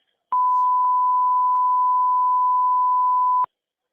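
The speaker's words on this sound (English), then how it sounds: "redacting personal information from Susan, there's this loud beep" A loud, steady censor beep tone masks personal details in a 911 emergency call recording, one continuous pure tone lasting about three seconds with faint clicks where the masked speech breaks through.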